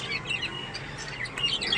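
Pigeons gather outdoors near a crow's nest, giving a few faint, scattered chirps and calls over light background noise.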